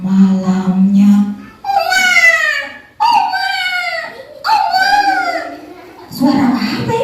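A newborn baby cries in a series of rising and falling wails, loud and close, separated by brief pauses between each cry.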